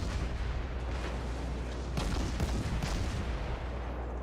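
Ship guns fire in a naval video game, a steady, heavy roar of booming gunfire with several louder blasts standing out over a constant low rumble.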